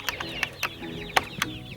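Chickens cluck and chirp in a backyard chicken tractor on grass, sending out a run of short, close calls in an irregular rhythm with a few sharper squawks, and no one speaks.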